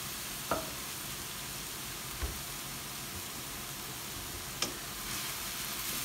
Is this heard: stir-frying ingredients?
yes